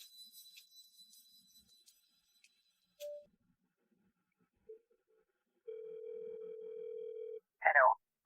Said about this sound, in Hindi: आपका फोन किया गया नंबर अभी कोई नहीं उठा रहा